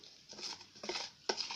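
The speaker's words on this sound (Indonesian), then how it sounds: "Kita aduk kayak gini." Homemade slime made without glue or borax, stirred with a spoon in a bowl, giving soft wet sticky squelches and light scraping in a few irregular bursts, close and fairly quiet.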